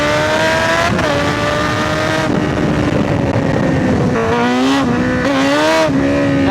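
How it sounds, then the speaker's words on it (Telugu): Kawasaki Z900 motorcycle revving hard as its rear tire slips, a loud sustained engine note rising and falling in pitch with several sharp changes, heard close and continuous throughout. "టైర్ స్లిప్ అయిపోతుంది అబ్బా"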